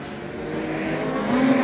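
Modified race cars at Gympie Speedway, a loud engine roar from a passing pack with a rising revving tone toward the end, steady and close.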